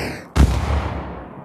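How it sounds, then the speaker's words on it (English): Gunfire from a Unity 3D endless runner shooter game: a single loud, sharp shot cuts in after a brief quiet start and rings out with a long fading tail. "Shooting is working"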